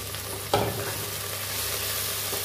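Dhekia fern greens dropped into a pan of frying potatoes, with red chickpeas also in the dish: a sharp clatter as they land, followed by a steady close sizzle and faint stirring.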